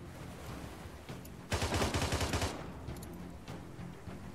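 A rapid burst of automatic gunfire in a video game lasts about a second, loud and dense, set against a quieter steady background with a few faint scattered shots.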